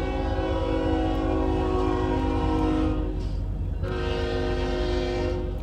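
A loud train horn blares in long sustained tones over the rumble of a passing train, cutting out briefly before sounding again.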